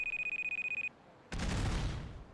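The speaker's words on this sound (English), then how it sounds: "That was an explosion." Video game explosion: a steady electronic alarm beeps in a fast pulsing rhythm, goes quiet, then a loud, broad blast erupts and roars on without fading.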